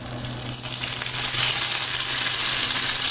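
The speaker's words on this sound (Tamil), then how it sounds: "கடுகு நல்லா பொடிஞ்சதுக்கப்புறம் நம்ம தட்டி வச்சுருக்க பூண்டு, அதுக்கப்புறம் கருவேப்பிலை" Crushed garlic and curry leaves hiss and crackle in hot oil after mustard seeds have spluttered, a steady close sizzle in a South Indian home kitchen with no talking.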